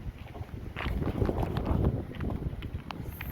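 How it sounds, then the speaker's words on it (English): Strong wind blowing outdoors on a cold day, a continuous low rushing roar buffeting the microphone with gusty swells throughout, no voices. "It is so windy."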